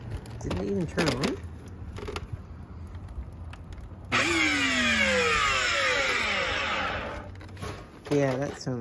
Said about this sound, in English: Now that shark over there, I'm kind of hesitant to start because he did say the motor is shot in this.